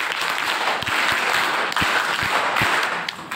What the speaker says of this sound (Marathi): 1 2 3 1 2 3 1 2 3 या टाईपने सर्वांनी टाळ्या वाजवायच्या आहेत का?